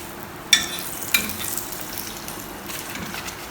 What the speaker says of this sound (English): My chapati has fried.